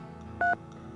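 A single short two-tone telephone keypad beep sounds clearly over a steady low hum, a brief press while dialing a number.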